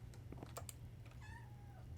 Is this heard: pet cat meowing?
yes